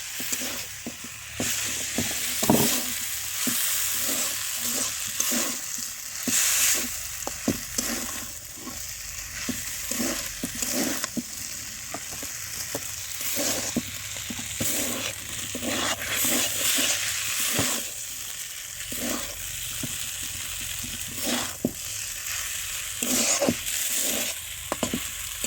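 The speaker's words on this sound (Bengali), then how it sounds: "এখন জাস্ট এটা ভাজা ভাজা করে নিব" Spices and noodles fry in a pan in a village kitchen, a constant sizzle broken by a regular, rhythmic scrape of a spatula stirring close up.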